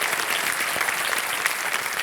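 Dense, steady studio audience applause on a televised quiz show set, continuous and fairly loud, with no voices over it, greeting a young contestant's mother and father.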